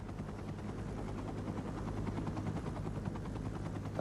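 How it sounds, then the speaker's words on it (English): A rescue helicopter flies low through a canyon at night, its steady rotor and engine drone filling the air close by, continuous and loud with no voices. "Pilot Craig Cowley flew the helicopter as low as he safely could in the dark."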